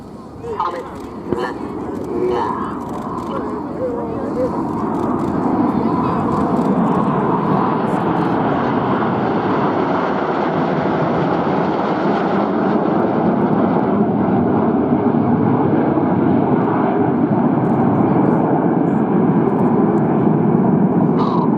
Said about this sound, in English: Reds 8 and 9 with the blue and red smoke on now, rolling around the other 7 aircraft